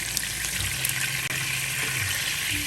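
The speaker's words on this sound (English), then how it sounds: "in my pot I'll go ahead and warm up my palm oil" Palm oil warming in a pot for Volta-style ademe soup, a steady broadband hiss and sizzle running evenly and close throughout, with no talk over it.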